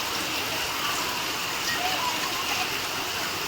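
Steady rain falls during a monsoon day in Konkan, a dense, even hiss filling the short stretch with a faint voice underneath.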